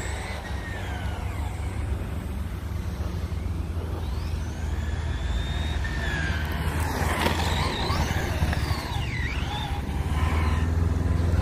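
A Traxxas XO-1 RC car with a Rossi body shell runs continuously, its high electric whine sweeping up and down through corners over a steady broad rumble, fairly loud throughout with no talk.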